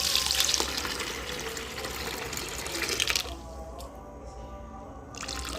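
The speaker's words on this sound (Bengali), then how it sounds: "ধুয়ে জলটা ফেলে দেবো, এই বালতিতেই জলটা ফেলে দেবো ধুয়ে।" Water from washing poured into a bucket in a home kitchen while cooking egg tarka, a steady splashing pour that stops abruptly midway, then resumes briefly near the end.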